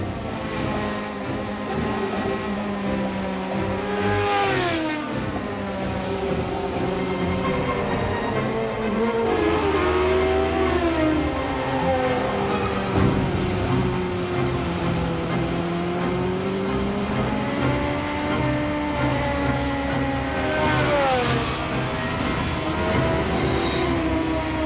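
A classic Formula Ford single-seater race car revs hard on track among other cars, its engine whining and swooping up and down through the gears in a continuous, fairly close howl.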